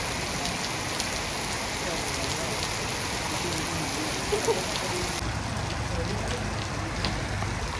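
Steady rain pours down outdoors, a dense, even hiss of drops striking the ground that holds at a constant level throughout, with no gaps or pauses.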